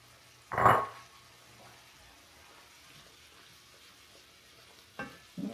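Tomatoes and shrimp cook in a pan with a soft, low sizzle. A louder scrape or stir comes near the start, and a couple of brief clinks follow near the end.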